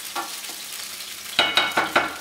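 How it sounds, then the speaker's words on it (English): Butterbeans being stirred into a lamb shank sauce in a cooking pot, a spoon giving four close, wet scraping strokes in a steady rhythm after a faint early stir. "give them a good stir, get them into the sauce"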